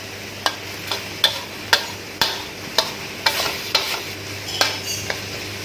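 Pork belly simmering and reducing in red curry paste in a pan, a steady low bubbling sizzle punctuated by regular clinks and scrapes of a spatula stirring, close and alone without voices.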